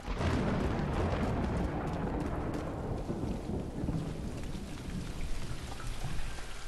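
Steady, dense rain pours in Sea of Solitude, a loud continuous hiss with low rumbling underneath, heaviest at first and easing slightly, with no voices.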